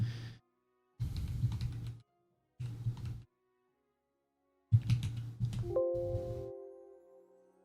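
Short bursts of clicky keystrokes on a computer keyboard come in separate clusters with pauses between them, followed by a sustained electronic tone from a mobile summoning game.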